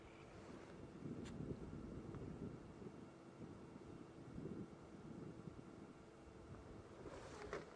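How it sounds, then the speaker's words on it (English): Wind buffets the microphone on a late-afternoon safari drive across open savanna at Djuma Game Reserve, a steady low rumble with gusty swells throughout, faint and unbroken. "I think partly with just this wind blowing, you know, that does sometimes unnerve them a little bit."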